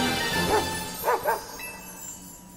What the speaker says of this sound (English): Dachshund's cry is just a dog barking.